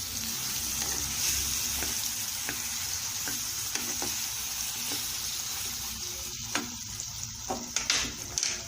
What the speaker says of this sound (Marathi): आंबे सगळ्या बाजूनी छान तुपात परतले गेले